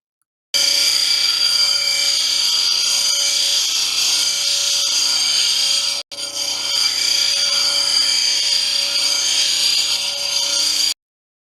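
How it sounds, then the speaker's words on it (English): An 80 grit grinding wheel rounding the top of a cabochon stone gives a steady, loud, high-pitched whine with a constant tonal hum, broken by one brief gap midway, with no talking. "The 80 grit wheel is used to begin rounding the top."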